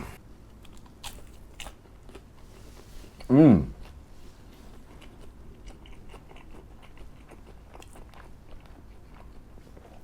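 One crisp, crunchy bite into crispy breaded habanero fried chicken from a Japanese convenience store, loud and close, with quiet room noise before and after.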